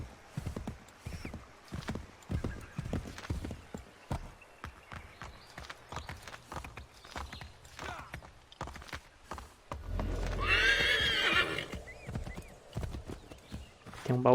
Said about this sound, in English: Você tem coragem de falar que esse cavalo não atravessa, mano?